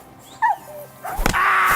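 Dog yelps and whimpers in Kingdom Come Deliverance 2, two brief high cries early on, then a louder burst of scuffling combat noise with a sharp hit near the end.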